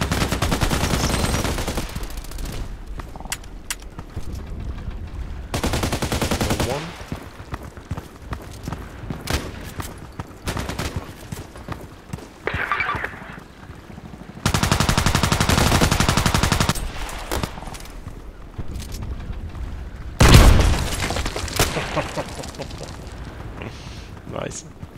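Bursts of automatic fire from a 416c rifle in the online shooter Contract Wars, loud rapid volleys broken by pauses, with a sharp close shot near the end and no talking.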